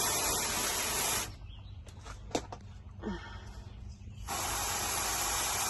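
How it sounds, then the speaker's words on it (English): A garden hose nozzle on the mist setting waters greenhouse plants, a loud broad hiss of spray running steadily, cutting off for about three seconds with small rustles and clicks, then resuming. "I do have it on mist, but mist still seems like it's pretty strong"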